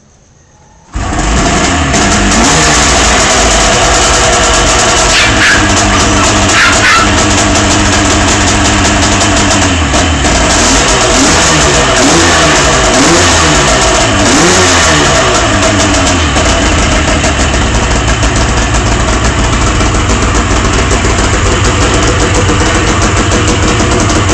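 A 1975 RD motorcycle engine, freshly rebuilt and set rich, kicks into life after a short quiet moment, then runs loud and close, idling unevenly with repeated revving for over twenty seconds.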